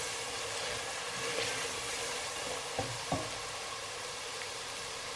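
Masala with red chillies frying in a pan for pav bhaji, a steady close sizzle running throughout, with a couple of brief knocks from stirring.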